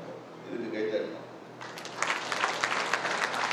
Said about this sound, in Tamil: இதுக்கு கைத்தட்டணும்